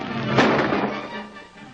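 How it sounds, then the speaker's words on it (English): A burst of gunfire rings out once, a single loud crack with a rolling, echoing tail that fades over about a second, with no voices. "Those shots will bring the cops."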